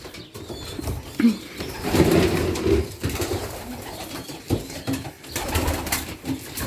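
Carrier pigeons and young birds in a loft coo softly and steadily, with a few flutters and restless shuffles as the flock is disturbed, close by and moderately loud.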